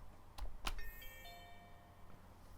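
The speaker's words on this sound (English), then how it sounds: "We're going to choose bells here, and that sounds like this." A bell alert chime from the Click4Assistance software plays: two quick bright strikes, then a ringing tone that fades slowly, alone and fairly faint.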